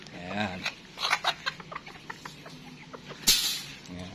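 A Chabo bantam rooster clucks in short, scattered bursts close by, with a sharper squawk near the end; a person speaks briefly at the start.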